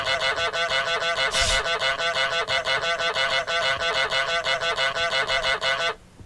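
Rapid, repeated honks from the goose in Untitled Goose Game, a steady loud run of harsh nasal calls lasting several seconds, with a brief burst of other noise partway through and no talking.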